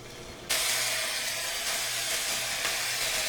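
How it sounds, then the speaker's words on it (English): Beef chunks hit a hot skillet of olive oil over high heat and erupt into a loud, steady sizzle that keeps hissing evenly for a few seconds after a short quiet start. "now I will be browning my chunks of beef on both sides on high heat"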